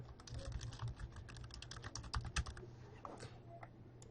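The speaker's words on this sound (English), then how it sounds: "All you have to do is type the name of the event." Rapid typing on a computer keyboard while an event name is entered into a form, with dense close key clicks that run unevenly across the whole stretch over a faint low hum.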